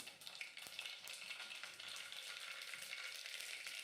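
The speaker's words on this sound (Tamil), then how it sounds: "ஆயில் ஹீட் ஆனதுக்கப்புறம் கடுகு போட்டு தாளிச்சிக்கலாம்" Steady, crackling sizzle of mustard seeds in hot oil, with dense high-pitched popping that continues without pause throughout.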